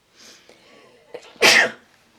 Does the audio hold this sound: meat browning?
no